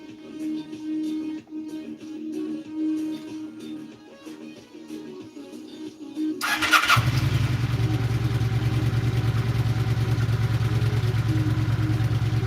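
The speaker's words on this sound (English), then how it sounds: "I'm gonna start the bike" A Kawasaki Vulcan motorcycle sits quiet for several seconds, then its engine cranks and fires, settling into a loud, steady, close-up idle that rumbles on to the end.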